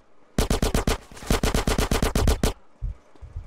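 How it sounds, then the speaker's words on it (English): An SMG in Grand Theft Auto: San Andreas fires one long rapid automatic burst of loud, evenly spaced shots that stops abruptly, followed by a few softer thuds. "SMG."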